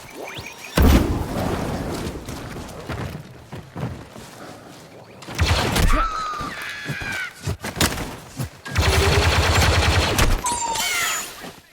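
A grenade blast and bursts of gunfire erupt in Star Wars Battlefront II's Ewok Hunt mode. Three loud, close volleys of crackling, thumping shots are separated by quieter stretches of game sound.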